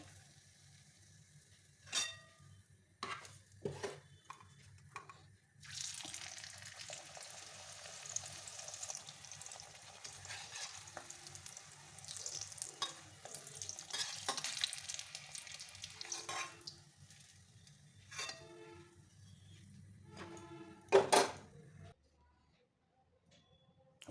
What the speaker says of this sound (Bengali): এরকম করে সুন্দর করে ভেজে নেব